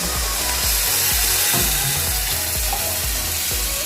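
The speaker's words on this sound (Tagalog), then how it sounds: "So, ilalagay na natin ang ating gata." Coconut milk hits a hot pan of shrimp paste and aromatics, sizzling loudly up close, with a rhythmic series of low thumps from stirring against the pan and no voices.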